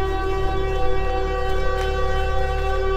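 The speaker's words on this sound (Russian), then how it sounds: "Просто звучит звук нафиг, блин, этой сраной сирены." Loud, steady wail of a civil defense style siren in a Siren Head horror video game, a sustained droning tone with layered harmonics holding unbroken throughout, with no talking.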